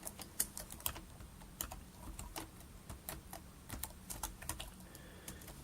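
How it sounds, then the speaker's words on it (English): Keys tapped on a computer keyboard while a password is entered during a Windows 7 setup, an uneven run of quiet, close clicks with short pauses between bursts, and no voices. "Type your password"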